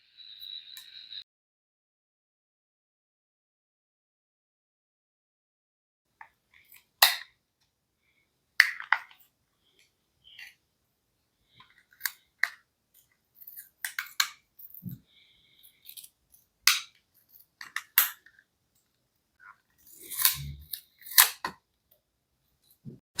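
Cover being taken off a P-SB7T spirit box radio: sparse, close plastic clicks and snaps in scattered bursts, separated by near silence.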